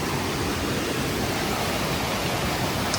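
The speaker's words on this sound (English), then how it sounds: "we're already coming up to our first waterfall of the hike" A waterfall on a New Hampshire hiking trail pours with a constant, even rushing hiss, close and unbroken, with no one speaking.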